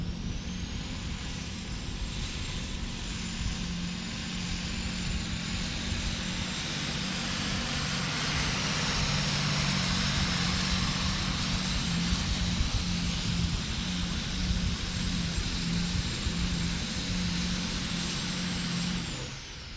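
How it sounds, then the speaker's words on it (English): Modified-class diesel pulling tractor at a tractor pulling event in Scorton, its engine roaring loud and continuous for about twenty seconds with a steady high whine over deep rumble, fading slightly at the end. "This is one in the modified class running on diesel fuel."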